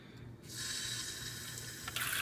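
Water runs from a sink tap, starting after a brief moment and then flowing as a steady, close hiss that swells slightly at the end.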